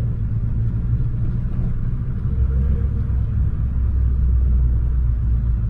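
A car drives down a street, a steady low engine rumble and road noise running continuously at an even, fairly close level with no voices.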